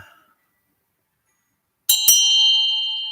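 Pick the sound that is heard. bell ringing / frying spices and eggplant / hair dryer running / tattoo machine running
bell ringing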